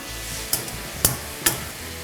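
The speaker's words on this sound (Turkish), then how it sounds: "Onun için şimdi şu yıkadığım pirinci atacağım." Washed rice tipped into a pan of frying onions for a green tomato pilaki, giving a low steady sizzle broken by three sharp clinks of a utensil against the pan.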